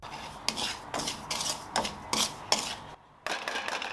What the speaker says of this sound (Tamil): ரவையை வந்து வறுத்துட்டே இருங்க